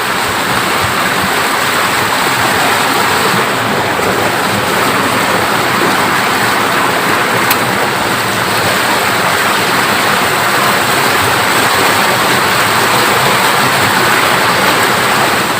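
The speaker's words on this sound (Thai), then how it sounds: "ตอนนี้ก็ฝนก็เริ่มตกเยอะแล้วเนาะ" Heavy rain pours steadily beside a small canal, a loud, continuous broadband hiss of water with no pauses or voices throughout.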